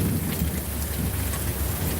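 Steady rain pours down outdoors as a dense, even hiss of drops, loud and close with a low rumble underneath and no voices.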